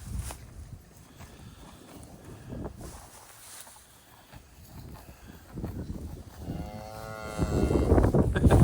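Calves mooing in the open, a few low calls rising near the end, with wind noise and shuffling steps.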